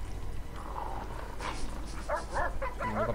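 Dog barking in the prison-management video game Prison Architect, a few sharp barks in quick succession toward the end over a busy game background with steady low rumble.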